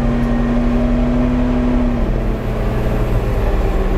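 Kubota RTV utility vehicle engine held at high revs with a hand throttle kit, a loud steady droning hum with a slight pitch shift partway through.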